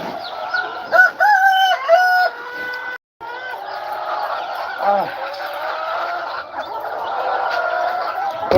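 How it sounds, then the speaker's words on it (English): Farmyard chickens, with a rooster crowing in drawn-out calls and hens clucking and honking at close range, fairly loud, with a brief gap and some faint talking. "Oh, chicken sounds."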